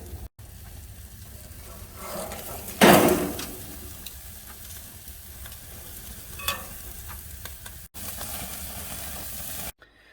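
Steak coated in mayonnaise sizzles and crackles on a grill as the mayonnaise melts, a steady frying hiss with one loud flare of crackling early on and a few short breaks.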